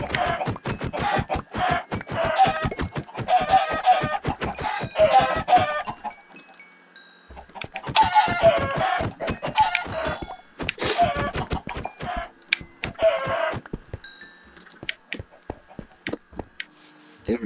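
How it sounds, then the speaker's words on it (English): Chickens in the video game Minecraft clucking in repeated bursts, a busy flock of fowl noises heard close and fairly loud, with short pauses between the clusters of calls. "There is so much fucking chicken down here."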